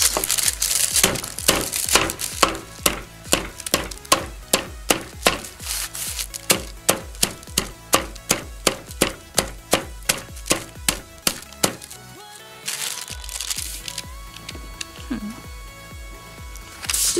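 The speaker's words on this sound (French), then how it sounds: "On va casser ce gros morceau de sucre pour en faire des petits cristaux" A large lump of sugar is struck over and over to break it into small crystals for a Breaking Bad-themed cake, giving a steady run of sharp, close crunching chops that stop briefly and then resume more irregularly.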